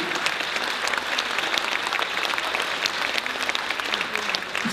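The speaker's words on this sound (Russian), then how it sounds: "И, конечно же, тотчас вы, полагаю, его еще раз искупаете в аплодисментах." Sustained, dense applause from a concert audience at a poetry and song evening in a Minsk railway workers' culture hall, steady and fairly distant for the whole stretch.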